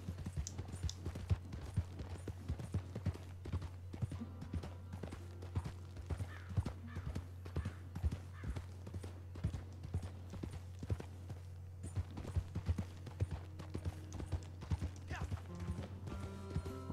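Quiet, steady clip-clop of horse hooves trotting along in Red Dead Online, a continuous rhythmic patter heard at a distance throughout, with a faint steady hum underneath.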